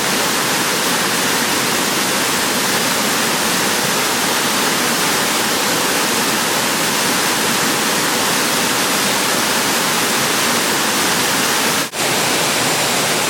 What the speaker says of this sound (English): First waterfall at Ricketts Glen.